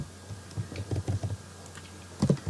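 Fingers type code on a computer keyboard, a short run of close, clicky keystrokes in an uneven rhythm, a brief pause, then another quick cluster of taps.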